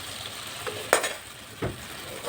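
Tomato, cashew and onion fry in a pan with a close, steady sizzle, broken by a couple of louder stirring scrapes and bursts of crackle; nobody speaks.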